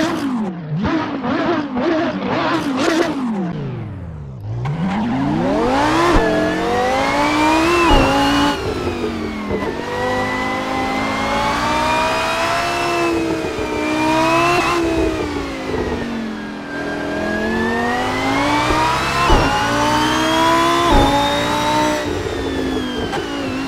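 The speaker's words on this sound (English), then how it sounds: "we're gonna have some fun with the Lamborghini Huracan at the Green Hell" A Lamborghini Huracan Performante at speed on the Nordschleife: the engine screams through quick upshifts with sharp breaks between them, then holds a loud, sustained wail that rises and falls through corners, close and continuous.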